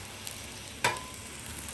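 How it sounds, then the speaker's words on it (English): Hash browns sizzle in bacon grease on a Blackstone griddle, a soft crackling fry with one sharp burst of sizzle partway through as they hit the hot surface, heard close up and alone. "Get our hash browns sizzling in there for a little bit."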